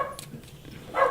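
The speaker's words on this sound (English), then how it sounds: "sorry about my dog" A dog barks nearby during an otherwise quiet indoor moment, with a short yip early on and a louder, fuller bark at the end, a couple of quick bursts in all.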